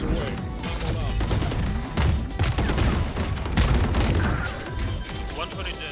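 Tejo's ultimate missile barrage in Valorant: a continuous, dense hail of booming impacts and crackling blasts at steady loudness, rolling on for several seconds with game sounds mixed in.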